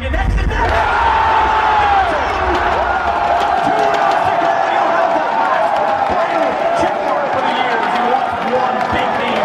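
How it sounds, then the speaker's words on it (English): A large indoor arena crowd at a Counter-Strike esports event roars and cheers continuously, dense and loud throughout, with shouts and chanting voices blending into a steady wall of noise. "Just listen to this crowd."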